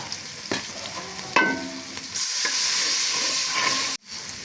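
Onion, chopped chili, turmeric, chili powder and salt fry in a pan for a vegetable labra while a spoon stirs and scrapes, a steady close sizzle that swells louder midway and cuts off briefly near the end.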